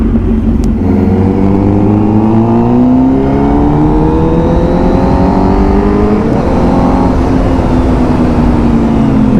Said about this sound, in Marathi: बहुत पावरफुल बाइक है